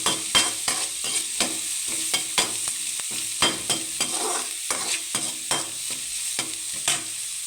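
A spoon stirs small onions frying in a pan, giving regular scraping strokes roughly every half second over a continuous sizzle, close and clear with no voices.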